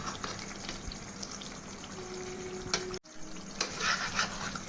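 Goat liver and kaleji fry on a low flame in a pan, a soft steady sizzle with a brief scrape and stir partway through, quiet and alone.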